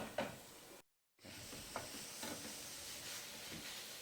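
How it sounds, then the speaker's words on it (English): Ground linguica sausage sizzling and frying in a pan, a soft steady hiss with a few stirring scrapes and a brief gap of silence early on. "Now it's time to add the linguica"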